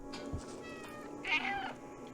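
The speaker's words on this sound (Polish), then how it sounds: "A miauczenie." A cat meows in the video game Stray against steady game music and ambient background, one drawn-out mew standing out near the middle.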